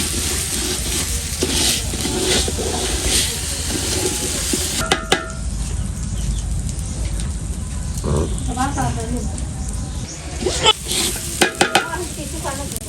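Washed rice sizzles and fries in a pan while being stirred, a steady close crackle with scraping of a utensil and occasional metallic clinks, with a voice talking over it.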